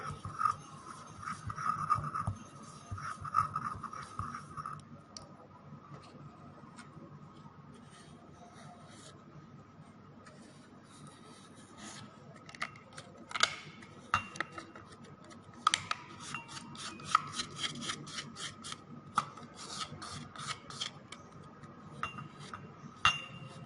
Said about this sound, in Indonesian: kita aduk sampai sulfurnya halus dan homogen